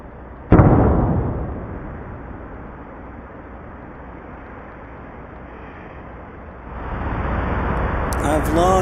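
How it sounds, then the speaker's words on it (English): A loud, sudden explosion bursts out once at close range, then a long rumbling, broadband roar lingers and swells again near the end. "there was this mysterious explosion"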